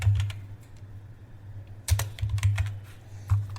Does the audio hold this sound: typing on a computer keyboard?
yes